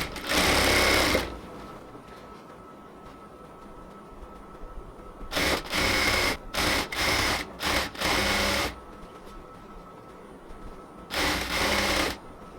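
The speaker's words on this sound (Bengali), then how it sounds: "এবার পুরোটা কোমরের মধ্যে আমি একদম ইলাস্টিকের পাশ দিয়ে পুরোটা কোমর সেলাই করে নেব।" Sewing machine stitching a salwar waistband close beside the elastic: a loud opening run, then a cluster of short stop-start bursts and a final run, separated by quiet pauses.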